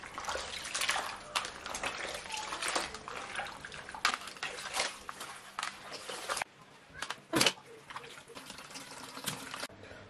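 Raw meat is washed with water in a cooking pot, with splashing, trickling and sloshing of water close by and irregular clatters, while a person talks.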